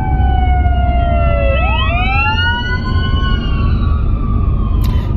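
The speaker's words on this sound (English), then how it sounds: "Excuse the ambulance." An ambulance siren wails steadily and loudly as a truck drives along the road. Its pitch bends sharply as the vehicle passes, and steady road and engine noise runs underneath.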